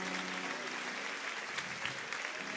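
A church congregation bursts into applause, a dense, steady wash of clapping from many people at moderate volume, with a faint sustained tone underneath at the start.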